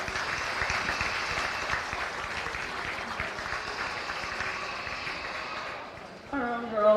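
A county fair goat show crowd applauds the young exhibitors with sustained, moderate clapping that fades out, while an announcer talks over it near the end.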